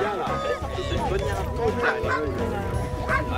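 Several dogs bark and yip at a canine walking event in Nilvange, close and busy, with sharp repeated barks and whimpers mixed under people talking throughout.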